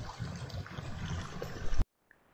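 A mountain water spout on the Merbabu hiking trail via Wekas runs in a steady, close splashing rush that cuts off abruptly near the end, leaving near silence.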